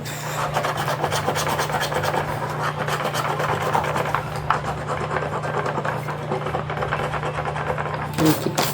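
Steady, close rasping and rubbing as scratch-off numbers on an Advent calendar are scratched away, continuous for several seconds with a faint hum underneath.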